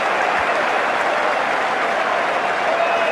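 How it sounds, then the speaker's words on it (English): A large cricket stadium crowd at an England versus Australia Ashes match applauds after a boundary, a loud steady wash of clapping that holds for the whole stretch. "Listen to this crowd now."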